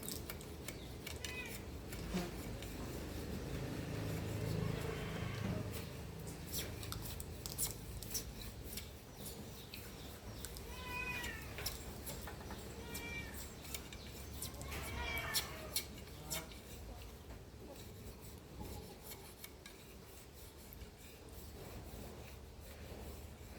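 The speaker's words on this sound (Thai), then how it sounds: "กำลังถ่ายทำเกี่ยวกับ การเหลาตอกค่ะ จักตอกค่ะ" Knife shaving and splitting bamboo strips for basket weaving, heard as faint, repeated scraping and rasping strokes in irregular bursts, with occasional sharper cracks and quiet background sounds.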